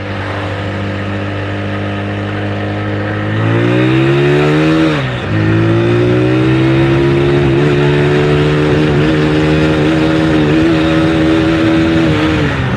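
Honda Mega Pro motorcycle engine revving in first gear with a slipping clutch, a steady loud close drone that rises in pitch around four seconds in, dips briefly, then holds a strained high rev to the end.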